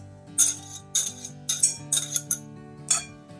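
A whisk clinks rhythmically against a bowl while four egg yolks are beaten, a series of bright metallic taps close up over a faint background hum.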